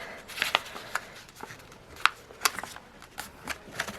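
Stiff printer paper is creased and pressed flat for the wing tips of a paper airplane, giving a series of crisp, close rustles and sharp crinkles at an uneven pace, with no voices.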